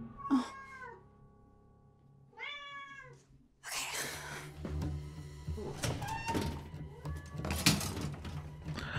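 A house cat meows twice clearly, each a drawn-out rising and falling cry, then a thump is followed by busy clattering household noise and more faint cat sounds.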